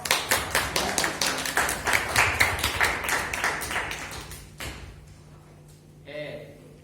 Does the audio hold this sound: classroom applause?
yes